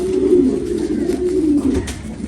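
Domestic pigeon, a racing hen flown in long summer endurance flights, coos steadily at close range, a low warbling drone repeating without pause and no voices.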